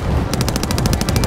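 Automatic gunfire in Call of Duty: Modern Warfare rattles in a fast, evenly spaced burst of close, loud shots over a dense background rumble, with no talk.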